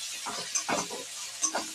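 Chopped ginger and garlic frying in a pan, a soft hissing sizzle with a few brief scraping strokes of a stirring utensil, close and moderately quiet.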